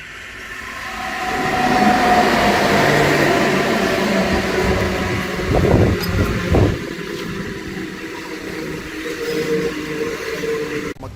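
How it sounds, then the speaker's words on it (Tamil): A MEMU passenger train rolls into Devanahalli railway station, a loud, sustained rumble of wheels on rails that swells in and holds, with brief squeals and clatter midway. "நம்ம மெமு ட்ரெயின் வந்துருச்சுங்க சிக்பலாப்பூர்லேருந்து."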